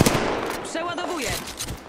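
Gunfire aimed at the player in a multiplayer shooter game, a burst of sharp shots close by, with voices talking over it throughout.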